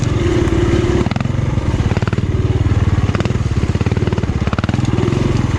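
A 2018 KTM 350 dirt bike rides Ohio trails, its close engine giving a loud, rapidly pulsing drone that rises and falls slightly as the rider works the throttle, with no voices.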